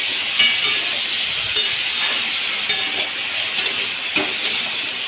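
Malabar spinach with turmeric, salt and slit green chilies is stirred in a hot pan for a fish-head chorchori. A steady sizzle and hiss runs throughout, with occasional scraping clinks of the spoon against the pan.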